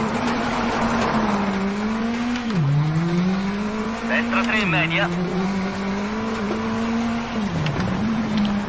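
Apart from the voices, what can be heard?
rally car engine in WRC 9 video game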